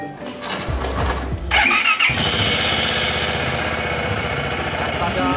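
A Voge 650DS motorcycle cranks briefly with a whirring starter, then catches and settles into a loud, steady, close idle that continues to the end.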